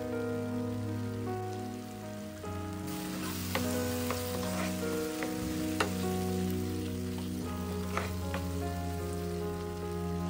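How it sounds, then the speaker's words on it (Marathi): Two tablespoons of butter sizzle in a hot spiced tempering for paneer butter masala, a steady loud frying hiss with a few sharp crackles and stirring scrapes throughout, with no voices. "फोडणीमध्ये 2 टेबलस्पून बटर घाला आणि मिक्स करा."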